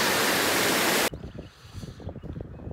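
Water rushes loudly over a small drop in a homestead stream, a dense broadband roar for about a second before cutting to a quieter, uneven trickle and splashing.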